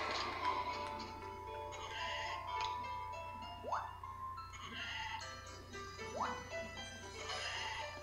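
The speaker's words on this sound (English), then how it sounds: "Now we're back to shearing sheep." Sheep in the Harvest Moon DS Cute video game bleat twice in a rising electronic tone over a looping farm music track, at moderate level.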